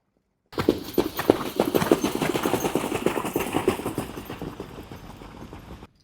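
Hooves of trotting horses drumming on the Grosbois training track in a dense, continuous patter that swells as they pass nearby and then fades, with no talk over it.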